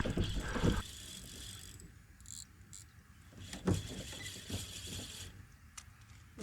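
A fishing reel on an Ugly Stik rod winding in line by a river, a close, quiet ratcheting whir in short bursts with pauses between, no talking.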